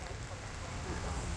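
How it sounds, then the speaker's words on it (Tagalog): Heavy rain pours steadily at an outdoor bus stop, drumming on an umbrella and hat in a dense, continuous hiss with no letup. "Yan, maulan-ulan, malakas ang ulan po."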